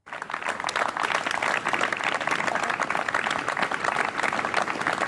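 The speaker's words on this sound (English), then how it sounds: "People across the UK have joined in with a special one-off clap for carers to mark the 72nd" A community clap for carers in Cardiff, UK, marking the NHS's 72nd anniversary, captured in a radio recording: steady, dense applause and clapping from many people, sustained throughout at an even level.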